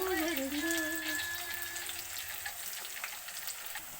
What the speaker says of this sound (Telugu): ఆనియన్స్ వేగిపోయండి